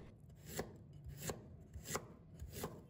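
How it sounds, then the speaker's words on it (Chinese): A knife slices through a piece of fresh ginger on a cutting board, four crisp, evenly spaced chops, close and quiet, with no voices. "接下来我们准备1块生姜，先将它切成片"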